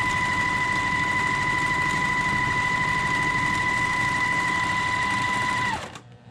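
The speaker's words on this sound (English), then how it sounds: "Finish sewing that, and then I'm going to flip this one and sew on the other side." A sewing machine stitching quilt block pieces runs steadily and close for several seconds with a constant whirring drone, then winds down and stops at the end.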